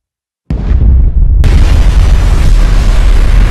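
A giant bomb explodes in Kaiju No. 8, a sudden massive blast that erupts into a dense, roaring, sustained rumble, very loud and alone, with a second surge of force a moment later.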